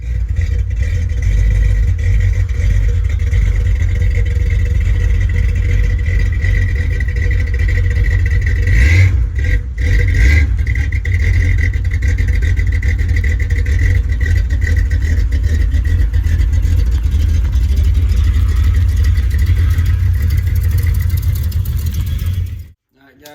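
A Chevrolet Corvette engine runs in a home garage, a loud, close, steady low drone with a faint mid-pitched whine that holds for over twenty seconds before cutting off abruptly.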